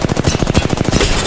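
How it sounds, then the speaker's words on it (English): Rapid automatic gunfire aimed at the player in the shooter game Apex Legends, a fast, loud, evenly spaced burst of close shots rattling for over a second before easing slightly. "Getting shot at."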